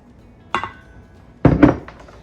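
Cream cheese, sugar and vanilla being mixed in a bowl for pumpkin cream cheese muffins, two brief clanking scrapes of a utensil against the bowl separated by quiet pauses, close and fairly loud.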